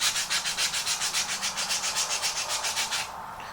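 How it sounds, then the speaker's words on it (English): A wooden end is sanded to a bevel, the rub rasping back and forth in a steady close rhythm of about five strokes a second before easing off, with no voices. "Then take the end of it, somewhat put a bevel on it, round it over a little bit."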